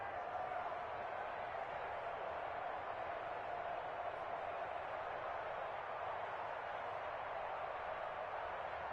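A football stadium crowd in Madden 21 roars steadily and fairly faintly, a continuous wash of cheering noise with no distinct breaks.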